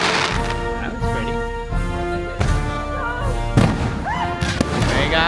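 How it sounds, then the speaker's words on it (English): Backyard fireworks pop and crackle repeatedly, with sharp bursts and whistling rockets over a continuous rumble, while people talk and cheer nearby. "We got fireworks everywhere."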